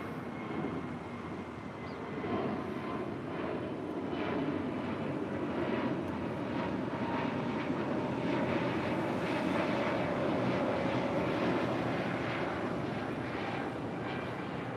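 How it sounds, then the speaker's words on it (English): Korean Air Cargo Boeing 747-400ER departing LAX, a sustained engine roar with pulsing texture that swells slightly mid-way and stays fairly distant, no talking. "Korean Air Cargo Flight 280 heading to Tokyo Narita. It's a 747-400ER."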